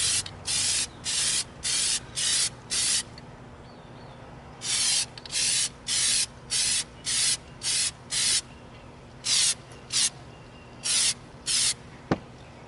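Plasti Dip sprayed from an aerosol can in light coats: a regular series of short, close hissing bursts, each about half a second long, with brief pauses between and a slightly longer gap in the middle.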